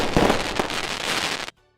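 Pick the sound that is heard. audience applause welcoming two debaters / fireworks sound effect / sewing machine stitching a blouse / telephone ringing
fireworks sound effect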